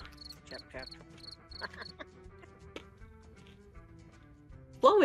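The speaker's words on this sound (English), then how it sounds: "You can just hear the crickets." Crickets chirp faintly in short repeated bursts, quiet and distant, fading after the first couple of seconds under a low background hum, ending in a sudden louder noise.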